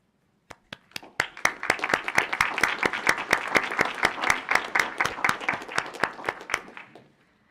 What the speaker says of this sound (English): I'd also like to extend a round of applause to our students' family members joining us today.